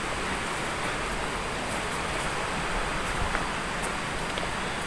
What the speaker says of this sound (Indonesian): Suara gemericik airnya sudah terdengar dari sini.